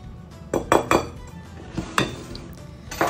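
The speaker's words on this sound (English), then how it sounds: "you're going to really need to stir it up because you want the cocoa to really be incorporated" A utensil clanks and scrapes against a bowl in irregular bursts while cocoa is stirred into a Southern red velvet cake batter, with close metallic knocks and no talking.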